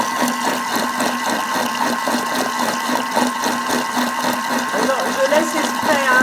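A Thermomix whirs at speed 3.5 while beating a nougat glacé mixture, giving a steady close mechanical churning with a regular pulsing rhythm throughout and no break.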